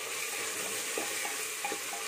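Sliced onions with a little salt sizzle steadily in hot oil in a pan for egg biryani, a continuous close frying hiss with a few faint clicks and no talking.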